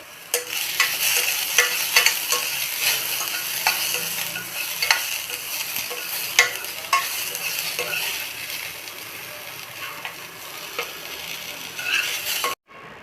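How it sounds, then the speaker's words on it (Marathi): Onion fries in hot oil for a chicken masala gravy, giving a continuous bright sizzle and crackle. A utensil stirs and scrapes the pan throughout, ending with a sharp clank. "त्याच तेलात आपण कांदा भाजून घेऊ कांदा भाजून घेऊ चांगला"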